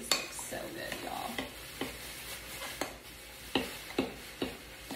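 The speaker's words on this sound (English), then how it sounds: "I'm just gonna stir that around." A spoon stirring vegan peanut sauce in a pot, soft scraping swirls with periodic light clinks against the side, faint sizzle underneath, close and quiet, no voices.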